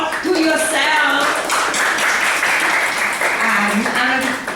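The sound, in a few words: audience applause at a Toastmasters meeting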